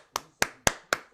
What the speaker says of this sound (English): Thank you for your clapping, virtually and otherwise.